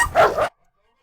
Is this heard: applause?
no